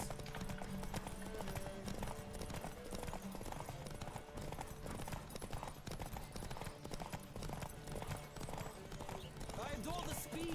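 Galloping horse hooves drum steadily in The Witcher 3 while someone talks over the ride, the hoofbeats low and continuous beneath his voice and game ambience.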